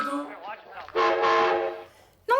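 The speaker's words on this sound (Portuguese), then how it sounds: "Não se assuste, sou só o apito do comboio." A cartoon train whistle effect from a 1940 film production: one sustained, chord-like blast of about a second, bracketed by brief voice-like sounds.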